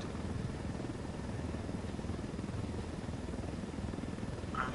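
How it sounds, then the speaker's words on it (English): Helicopter in Ghost Recon: Wildlands, a steady low rotor and engine drone that stays loud and close throughout with no talk over it. "In the chopper."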